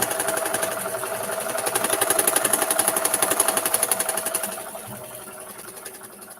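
A sewing machine running with a clunky sound, close up and fast, with a steady rapid stitching rhythm that slows and drops in level near the end. No one speaks.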